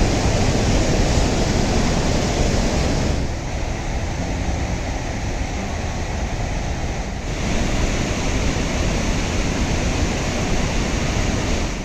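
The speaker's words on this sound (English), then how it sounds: "the rumbling sound of water rushing below my feet scared the hell out of me" Dudh Kosi river rushing in a steady, dense roar beneath a bridge, loud and continuous with a slight dip in the middle, no voices.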